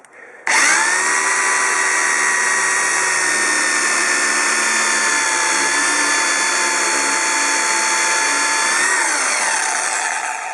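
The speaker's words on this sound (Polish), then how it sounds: "Wiertarka 500 W ma." A cheap 500 W AMS electric drill whirs to life and runs at a steady high pitch for several seconds, close and loud, then begins to wind down.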